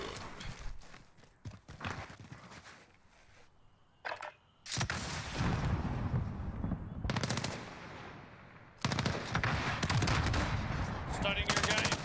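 Video game gunfight with heavy bursts of automatic gunfire and scattered single shots, loud and close, broken by brief quieter gaps and a few clicks.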